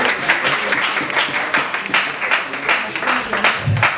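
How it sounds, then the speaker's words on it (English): Audience at a medical lecture applauds a doctor, a steady patter of many hands clapping at moderate loudness, continuing throughout with a faint voice near the end. "let's start clapping again for Dr. Ajay Gandhi"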